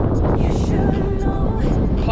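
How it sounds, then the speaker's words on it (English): Strong wind buffets the microphone at the start point of a coastal run near Porthcawl, a steady roaring rumble with no break and faint speech under it. "It's going to be mega windy."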